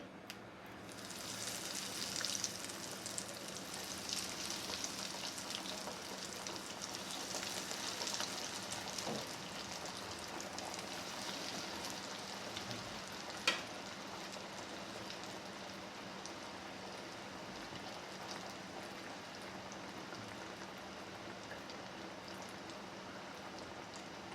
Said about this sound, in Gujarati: તેલ ગરમ થઈ ગયું છે તે આપણે કટલેસ હવે તળી લઈએ